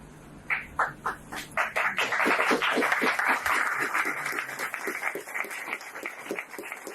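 Audience applause at a conference on universal basic income, starting with a few separate claps that swell into sustained, dense clapping from a large crowd, with some rhythmic accents, then thinning slightly toward the end.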